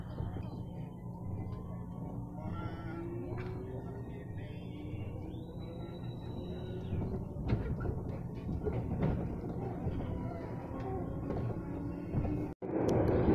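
A KRL commuter train pulls out of Sudimara station, a steady rumbling rail drone with wheel noise and a brief high squeal, ending in a sharp click.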